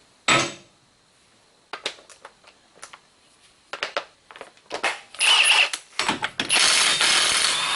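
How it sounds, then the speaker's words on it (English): A socket ratchet loosens the CV axle nut on a 2001 Buick Century: a sharp opening clack, then scattered bursts of ratcheting clicks and metallic knocks, getting busier and louder toward the end. "take the appropriate size socket here, and we're going to loosen our axle nut up"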